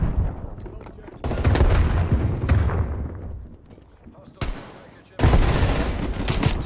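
Rapid bursts of video game weapon fire, loud and close, coming in two dense volleys separated by a quieter stretch, with someone talking over the action.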